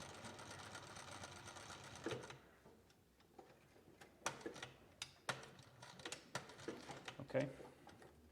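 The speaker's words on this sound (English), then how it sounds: "Now I'm going to stitch the heel tab." A sewing machine stitches leather on custom footwear in quiet, uneven bursts of rapid ticking, with soft clicks and handling sounds between runs.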